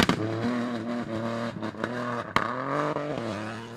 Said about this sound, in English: the distinctive sound, the three-cylinder sound again